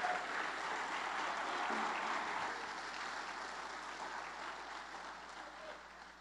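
A church congregation applauding during a Portuguese-language sermon, soft and distant clapping that slowly fades across the stretch.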